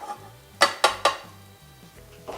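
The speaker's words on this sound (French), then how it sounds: "La marmite sur la table," A cooking pot of drained boiled potatoes is set down on a table, giving three sharp close metallic knocks in quick succession, then quiet with a faint clink at the end.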